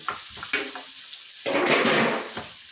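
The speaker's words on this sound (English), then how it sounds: "Now I just go ahead and put the vegetables in. Get a little bit of fry in there." Vegetables fry in a pan for enchiladas, giving a steady close sizzle with a few stirring scrapes early on, then the frying swells louder and brighter midway.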